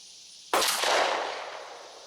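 A 20 gauge Stevens shotgun fires a single Winchester Super X 2-3/4 inch 1 oz #6 shell: one sharp, loud blast with a broad, ringing decay, heard alone without speech.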